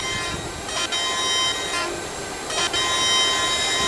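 Eurostar train in a Roblox rail game emerging from a tunnel at speed, a steady loud rolling rumble with two brief swells of brighter noise as it passes, no talk.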